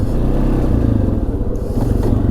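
A 2016 Arctic Cat XC 450 4x4 ATV at full throttle plows through snow, its engine roaring loud and close in a continuous drone, with scraping and clattering from the snow and chassis.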